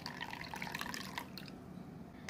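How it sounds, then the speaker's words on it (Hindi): Rice water poured into a homemade hair remedy mixture, a soft trickling and splashing of liquid that runs steadily and quietly, then tapers off into faint drips. "इस तरीके से जब आपको ऐसा पानी मिल जाए चावलों का तो आपको इसे इस नुस्खे में भी डाल देना है कुछ इस तरह से।"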